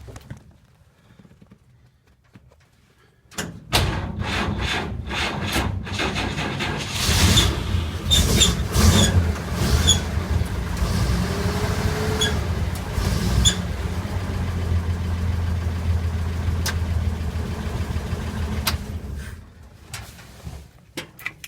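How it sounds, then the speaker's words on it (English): A 1947 GMC truck engine cranks on its starter with a jump box attached, a loud continuous churning turnover that starts abruptly after a quiet lead-in, runs for about sixteen seconds, then cuts off. "I'll go break out the jump box and see if it starts on like one click."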